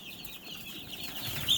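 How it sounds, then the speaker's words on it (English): Backyard chickens, including barred rocks, cluck in a soft irregular flurry, close by and without talk, a busy flock heard over faint background noise. "this is way too many chicken to have running around"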